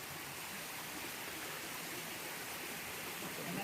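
A waterfall at Mamidigudem near Kothagudem gives a steady, dense rushing roar of falling water that fills the whole stretch without pause, with no voices over it.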